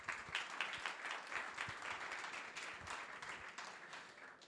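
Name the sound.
audience applause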